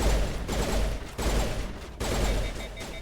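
Rapid automatic gunfire in the video game Mass Effect comes in three close, loud bursts of roughly a second each, separated by short breaks.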